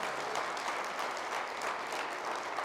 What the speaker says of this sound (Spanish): De un aplauso al Señor.